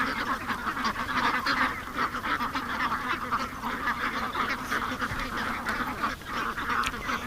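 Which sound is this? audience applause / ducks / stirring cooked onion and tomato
ducks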